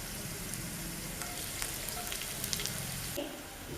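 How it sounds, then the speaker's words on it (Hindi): Finely chopped garlic, green chilli and sliced onion sizzle steadily in hot oil in a pan, a dense, even crackle up close with a few brief stirring clinks. "तेल में डालेंगे हम बारीक कटा हुआ लहसुन और हरी मिर्च, और इसमें डाल देंगे स्लाइसेस में कटा हुआ प्याज"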